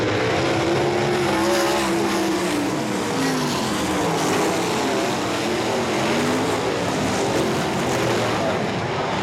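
Sprint cars race around a speedway at the Ohsweken Heat Nationals, a loud, continuous roar of several engines revving and shifting in pitch as they pass, with a voice talking faintly underneath.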